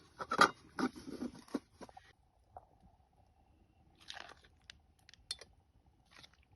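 Food being chewed outdoors at a riverside fishing spot, including hot food and eggs, with a burst of close, wet crunching bites at the start, then quieter intermittent chewing and small mouth sounds.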